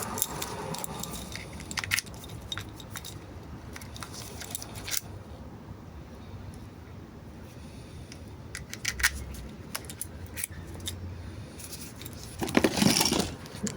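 Keys for a new locking gas cap jangle and clink in the hand, scattered metallic chinks through the clip with a louder burst of rattling near the end, close and fairly quiet.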